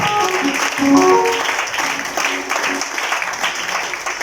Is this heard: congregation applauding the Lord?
yes